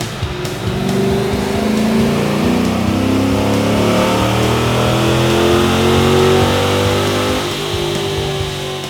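A car engine revs loudly and steadily on a dyno during performance tuning, its pitch rising and falling in long sustained sweeps with no pauses, close and continuous.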